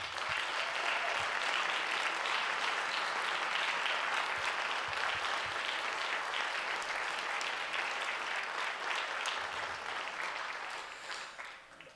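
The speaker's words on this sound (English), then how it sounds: "I just want to give you a big round of applause for the work you do for our city" A full room of people stand and applaud city staff at a State of the City address in Hopkins, steady dense clapping sustained throughout and tapering slightly at the end.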